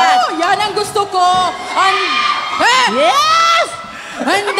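An audience at a live comedy event cheers, whoops and shouts loudly on cue for noise, a dense crowd roar with high excited yells rising and falling, up close.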